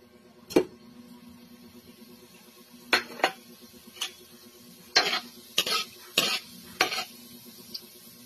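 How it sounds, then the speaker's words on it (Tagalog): Annatto seeds fry in a pan while a utensil stirs them, giving a low steady sizzle under a series of sharp scraping and tapping strikes of metal on the pan, close and irregularly spaced. "Magluto na po tayo. Unahin na po natin yung atsuete seeds."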